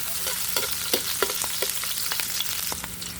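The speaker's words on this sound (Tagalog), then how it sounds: "okay na po yung bawang sa sibuyas. Medyo nagisa-gisa na po." Garlic and onion sautéing for pork dinuguan, a steady close sizzle of frying with scattered clicks of stirring against the pan, no voices.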